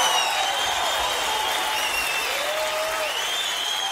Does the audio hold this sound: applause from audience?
yes